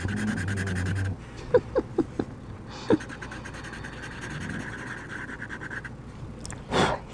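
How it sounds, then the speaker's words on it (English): A dog lying on a bed in the sunshine snores softly near the microphone, slow breathy rasps beneath scratchy pen or marker strokes and occasional taps from drawing. "Oh, Jack is really snoring."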